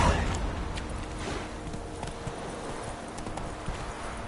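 Hooves of Roach, Geralt's horse in The Witcher 3, pound in a quick galloping rhythm, near and steady throughout, with no voices over them.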